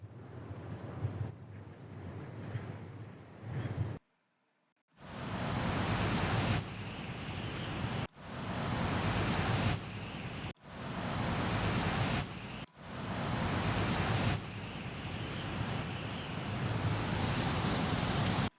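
Layered wind ambience built for Star Wars sound design: a steady, broad rushing wash with surf-like swells and contoured rises, broken by a short full dropout and a few abrupt cuts between passages.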